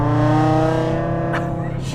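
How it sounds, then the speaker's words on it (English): An Audi RS3 with a big turbo, big downpipe and stock cat-back exhaust drives off, its loud, steady engine drone holding rich harmonics throughout, with a brief whoosh near the end. "You get to hear that big turbo, big downpipe, stock catback, believe it or not."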